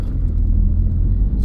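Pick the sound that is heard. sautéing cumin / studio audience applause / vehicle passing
vehicle passing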